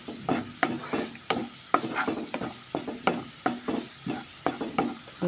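Cumin seeds roasting in a pan for a Goan garlic okra dish, heard up close as a soft sizzle punctuated by regular, rhythmic spatula scrapes and taps, roughly two or three per second.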